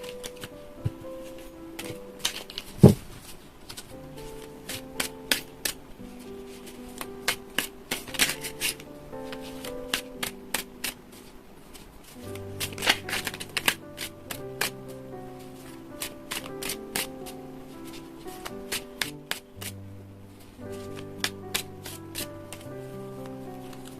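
Tarot and oracle cards being shuffled by hand, a run of crisp riffling flutters and soft slaps repeating across the whole stretch over quiet background music, with no talking.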